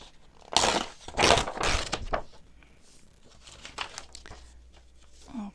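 Paper being torn and crinkled by hand for a junk journal, several quick close rips in the first two seconds, then quieter rustling and handling.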